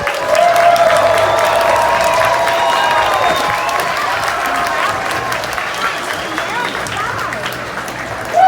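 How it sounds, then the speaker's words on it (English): Crowd applause at a TNT Motorsports event in Raleigh, North Carolina, loud sustained clapping and some cheering that carries on throughout, with an announcer's voice over the top. "Feel free to give all the applause, take all the pictures, give all the waves you want."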